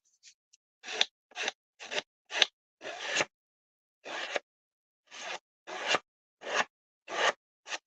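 Scissors snip and scrape along the edges of cardstock to distress them, about a dozen short crisp cuts in an uneven rhythm, close and clear with no talking.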